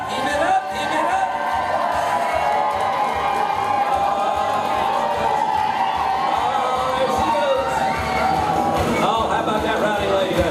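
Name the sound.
rowdy family crowd cheering at lumberjack show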